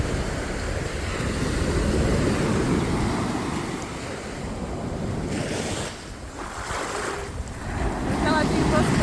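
Pacific Ocean waves wash against a shore ringed by rock walls, with steady loud surf and heavy wind buffeting the microphone throughout.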